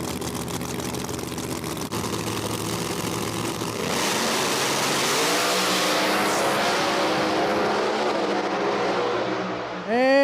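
Drag race cars, including a screw-blown supercharged Corvette, roar loudly down the strip at a no prep event in Brainerd, Minnesota, the engine tone building and sweeping upward as they accelerate, with a commentator speaking over the noise.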